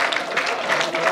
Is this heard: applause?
yes